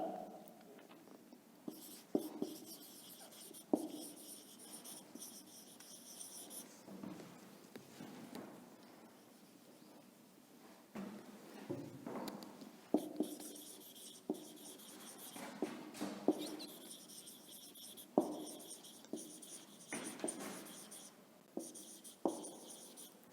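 Chalk or pen scratches across a classroom board in long strokes and short taps, interrupted by brief pauses and the occasional knock, close and fairly clear with no talking over it.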